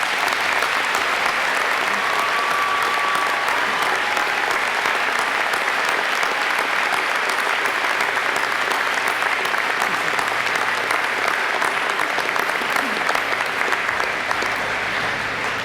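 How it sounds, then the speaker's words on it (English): Sustained audience applause for graduates at a university spring convocation afternoon ceremony, steady and loud throughout with dense clapping from a large crowd, no talking. "Please join me in a warm round of applause one more time for all of our graduates."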